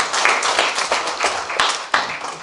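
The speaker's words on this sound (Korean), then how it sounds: "박수 쳐주세요." Audience clapping in applause at a community town hall meeting with city officials in Janggun-myeon, Sejong, dense and close, a brief burst of many hands with a few sharper claps standing out.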